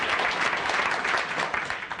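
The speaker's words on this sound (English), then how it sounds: "If you applaud, you only waste time that I could use talking to you." An audience at a talk by Groucho Marx breaks into full, sustained applause, a thick continuous wash of clapping at moderate loudness that thins slightly toward the end.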